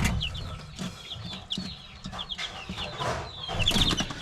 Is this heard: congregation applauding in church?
no